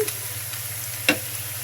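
Sliced onions frying in a pan until golden give off a steady, close sizzle, broken once by a short clack of the utensil, with no talking.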